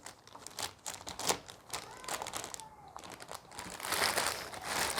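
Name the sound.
unwrapping heavy knife block packaging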